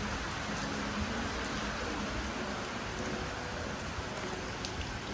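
Steady rain pours down in an outdoor village setting, a dense even hiss of drops on surfaces filling the whole stretch without pause, moderately loud and close, with no talk over it.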